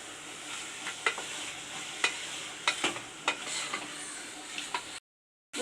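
Chicken pieces fry in a pan for green masala biryani while a spoon stirs them, sharp scraping knocks at irregular intervals over a soft, steady sizzle, ending in a brief silence.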